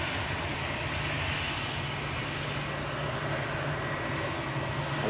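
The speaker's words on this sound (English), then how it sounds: "Next to go is EasyJet GEZTR with flight 2109 over to Paris Charles de Gaulle." An EasyJet airliner departing Manchester Airport on a flight to Paris Charles de Gaulle, its engines a steady, loud broadband roar that holds throughout without any talk.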